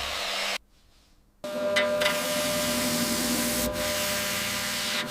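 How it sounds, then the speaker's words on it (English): A restored car's surface gets polished, giving a steady close rubbing, sanding-like whoosh that breaks off briefly near the start, then resumes and continues evenly. "Polishing revealed a flawless finish"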